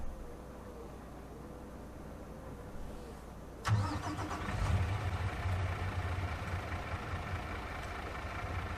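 Mack truck engine in the Farming Simulator 25 game cranks and catches after a quiet stretch of ambience, then settles into a loud, steady rumbling idle.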